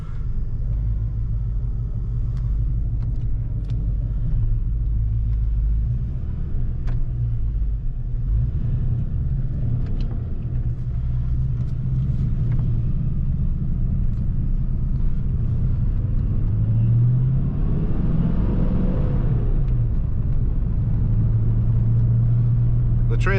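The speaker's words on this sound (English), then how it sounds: "we're going to take it for a little test drive" A 1989 Ford Mustang cruises on a test drive, its engine and road noise forming a constant low rumble from inside the car, with a brief rise in pitch late in the run and no talking.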